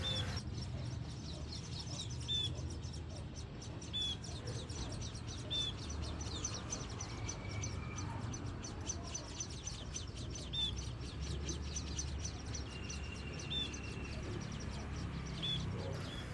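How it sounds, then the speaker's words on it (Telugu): Small birds chirp faintly and intermittently in a terrace garden, with sparse short calls spread over a steady low background hum. "పిట్టలరుపులు వినపడుతున్నాయా అండి?"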